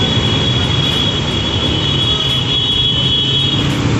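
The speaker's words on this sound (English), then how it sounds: "It feels so good to see all these hustle and bustle noises." Continuous loud rumbling of heavy traffic with a steady mechanical drone and rolling wheel noise, close by and unbroken throughout.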